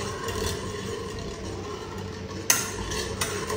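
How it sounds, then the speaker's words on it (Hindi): Custard powder cooks in milk in a pan while a spoon stirs it steadily. The soft scraping is close, and one sharper knock against the pan comes near the end. There is no talk. "जब तक मिलाएं जब तक कस्टर्ड पाउडर पक ना जाए।"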